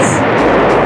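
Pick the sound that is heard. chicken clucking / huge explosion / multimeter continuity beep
huge explosion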